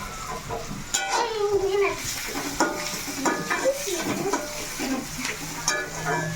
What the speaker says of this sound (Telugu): చక్కగా ఇలా చూడండి ఎర్రగా వేగాలన్నమాట టమాటాలు